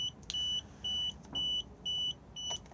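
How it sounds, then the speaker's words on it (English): A fridge control panel in a Swift Conqueror 570 motorhome gives a warning because the engine isn't running: five evenly spaced, clear, high-pitched electronic beeps, each about half a second long, close by with no other sound. "If I press this at the moment, we will get a beeping and a red flashing light because the engine isn't running"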